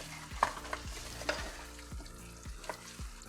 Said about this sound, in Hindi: मटन को हमें अच्छे से मसाले के साथ भुनना है।